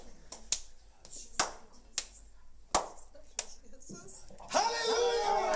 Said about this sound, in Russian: Я буду хлопать, а ты давай, повторяй за мной.